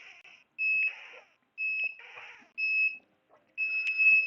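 A workout interval timer beeps in four evenly spaced bursts about a second apart, each a sharp electronic tone, close and clear in a quiet room.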